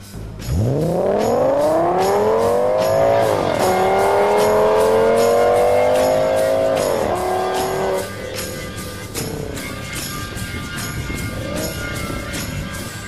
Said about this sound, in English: Get ready for some rough and ready racing.